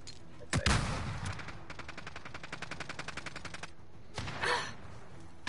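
Sniper rifle fire in Call of Duty: Warzone: a sharp loud crack, a rapid even burst of shots, then another crack a few seconds later, close and distinct against a quiet background.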